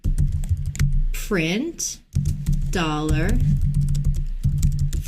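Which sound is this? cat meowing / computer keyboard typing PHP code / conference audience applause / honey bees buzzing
computer keyboard typing PHP code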